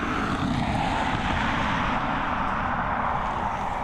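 A 17-year-old Ryanair jet, flight FR507 from Bristol, lands at Dublin Airport, a loud, steady engine rumble and rushing roar filling the few seconds without voices.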